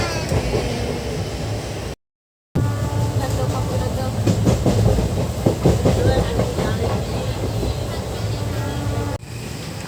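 A train rumbles steadily along the rails with rhythmic clatter throughout, briefly cut out near the start, with faint voices mixed in.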